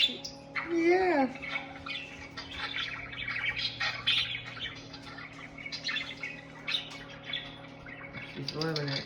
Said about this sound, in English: Grandma's parakeet is watching the parakeets on YouTube.